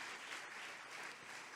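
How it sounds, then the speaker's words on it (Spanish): A church congregation applauds, a faint, even wash of clapping heard from a distance for the whole stretch, with no clear voices over it. "Vamos aplaudir ao Senhor pela vida deles."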